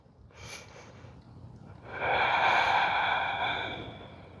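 During a yoga exercise, a short inhale is followed by a long, audible exhale that swells and fades over a couple of seconds, close and fairly soft, with no speech.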